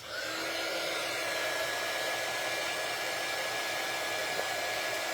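A hair dryer blows continuously on a freshly painted ornament star, a loud, steady, close-up whoosh with a faint whine and no speech.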